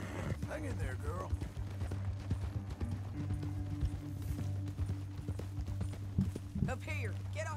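Horse hoofbeats in Red Dead Redemption 2 clop rhythmically under a low droning music bed, with a horse snorting and voices speaking briefly near the start and end.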